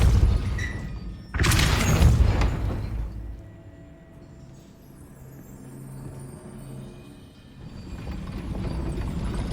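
The Depulso spell is cast in Hogwarts Legacy: a sudden loud blast-like whoosh with a booming thud that fades over about two seconds, then low ambient rumble and a second swell building late.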